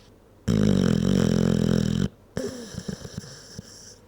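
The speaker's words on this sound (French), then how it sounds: "Petite pause ronflement." A long, loud, rattling snore, then after a short pause a series of smaller snorts and sputtering breaths.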